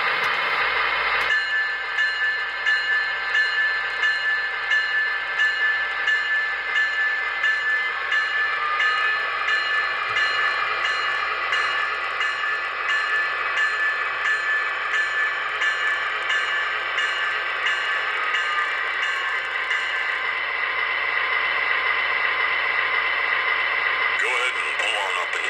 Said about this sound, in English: let you hear the sounds of this Halloween locomotive